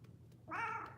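A single cat meow, close and fairly clear, rising out of quiet room tone halfway through and then trailing off.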